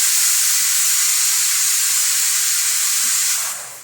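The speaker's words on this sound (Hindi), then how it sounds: "पीछे कुकर की सीटियाँ भी आ रही है बहुत ज़्यादा" A pressure cooker whistle lets out a loud, steady high-pitched hiss of escaping steam, running unbroken for several seconds, then easing off at the very end.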